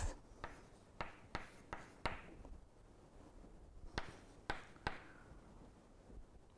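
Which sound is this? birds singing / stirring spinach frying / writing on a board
writing on a board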